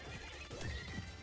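A horse whinnies in a video game, a clear mid-level neigh with a wavering pitch that runs across the short moment, joined by faint clopping and a crash-like hit near the end, with no talk.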